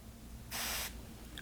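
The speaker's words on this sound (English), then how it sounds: "I use this mister spray bottle and lightly mist my work surface." A handheld mister spray bottle gives one short, close hiss of water mist onto a pottery clay work surface, lasting under half a second in an otherwise quiet room.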